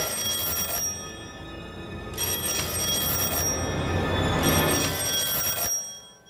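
An old, unplugged telephone rings with a loud electric bell in three long bursts separated by short pauses, close by and with no voices over it.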